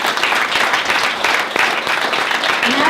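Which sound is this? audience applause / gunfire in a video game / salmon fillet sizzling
audience applause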